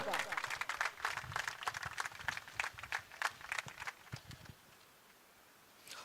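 A crowd gives loud, dense applause for a prize winner at an outdoor cricket tournament award ceremony; sustained rapid clapping for several seconds, then thinning and fading out near the end.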